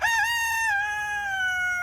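A rooster crows loudly and close by in a backyard garden, one long drawn-out call rising then holding and slowly trailing off, with no talking over it.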